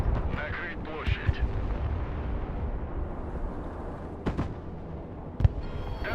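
Artillery fire in the video game Broken Arrow, a continuous rumbling battle din with a few sharper distant booms near the end, heard under a voice talking throughout.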